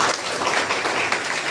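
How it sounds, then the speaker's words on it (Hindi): Audience applause at a vocational course training and guidance session, a dense, steady wash of clapping from a crowd that fills the short moment without talk. "तो अपने लिए इससे भी जोरदार तालियां।"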